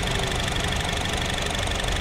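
A used 2018 Honda Jazz RS with a CVT idles with a dry engine and no oil leaks: a steady, even, close hum with no changes over two seconds.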